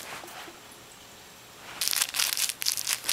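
Pet cats tearing into wrapped Christmas presents, with a burst of paper crinkling and crunching arriving after a quiet stretch and continuing in close, busy, uneven rustles.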